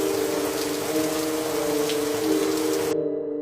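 Light rain falls in cool weather, giving a steady, dense patter with a low pump-like hum beneath. The hiss cuts off abruptly near the end.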